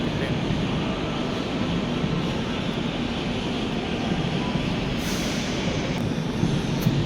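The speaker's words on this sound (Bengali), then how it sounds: "ডেকান কুইন ট্রেন নাম করা এখানকার ট্রেন।" The Deccan Queen train rumbles through Lonavala railway station in a steady, loud, continuous roar of wheels and carriages that holds unbroken throughout.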